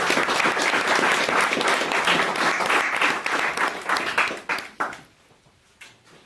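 A literary reading audience gives warm, full applause that holds steady, then thins into a few scattered claps and fades to near quiet near the end.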